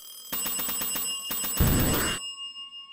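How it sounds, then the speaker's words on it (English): An old-style telephone bell rings in rapid, loud bursts in a video game, two clusters of metallic trills followed by a noisier rattle, then stopping abruptly into quiet. "Mr. Mahi, answer that phone."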